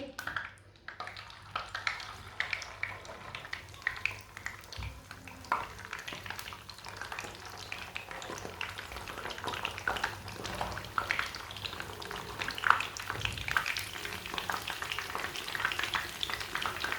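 Spiced chicken pieces frying in hot oil give a continuous crackling sizzle, moderately quiet and close, with occasional small pops and a faint stir.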